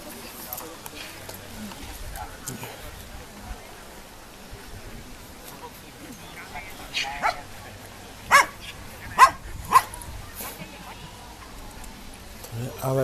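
Dogs bark at an outdoor regional dog show in Příbram, with several sharp barks rising near the end over a murmur of crowd chatter and nearby voices.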